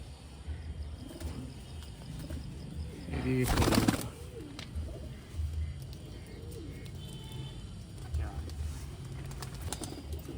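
Pigeons of a Malwai breed coo in a loft, with low repeated coos, soft chirps and a brief burst of wing flapping; someone talks intermittently over the birds.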